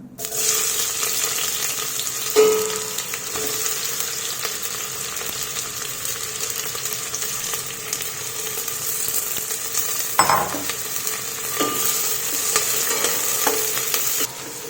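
Thinly sliced onions sauté in hot oil toward brown, a loud, steady sizzle with scraping stirs of a spatula and a couple of sharper knocks against the pan, no talking.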